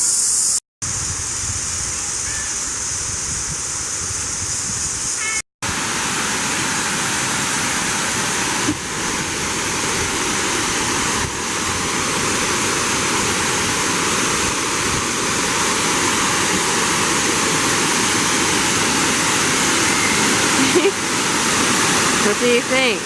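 A waterfall in a national park at Chiang Dao, Thailand, pours as a loud, steady, broadband rush of falling water that stays constant throughout, with two brief dropouts near the start.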